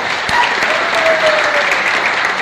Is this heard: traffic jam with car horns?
no